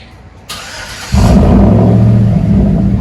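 A Chevy Avalanche with a 5.3L V8 and loud dual exhaust fires up close by, with a short whine, then a sudden heavy rumble that settles into a steady, deep, loud idle.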